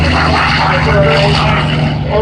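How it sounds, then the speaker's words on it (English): A cabin-class corporate propeller airplane drones loudly and steadily at an EAA AirVenture 2013 airshow, its engines holding a constant tone while a commentator's voice runs over it. "It's the first really cabin class corporate airplane."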